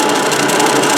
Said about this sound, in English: So I got myself a nice grinder